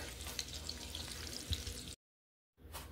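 Sausage in a pan for a Sunday roast dinner sizzles steadily and softly, a close, even frying hiss that cuts out abruptly, then resumes briefly.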